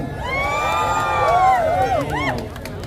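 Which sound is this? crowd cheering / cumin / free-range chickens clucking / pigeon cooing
crowd cheering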